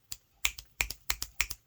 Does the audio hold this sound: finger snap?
yes